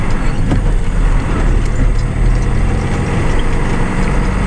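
A tractor engine runs loud and close with a steady low rumble, holding a constant throttle rather than clearly climbing, with no talk over it.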